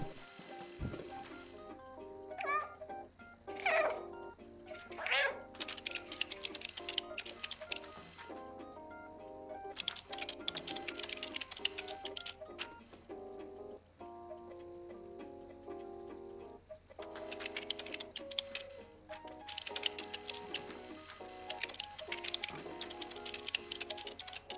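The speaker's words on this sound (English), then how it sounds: "cat types faster than I do" A cat in the video game Stray tapping rapidly on a computer keyboard, bursts of crisp clicking keystrokes in uneven runs with short pauses, set over soft background game music.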